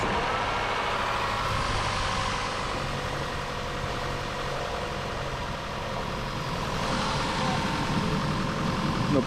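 An Audi car engine idles under the hood with a steady, low, even hum, while voices talk faintly nearby.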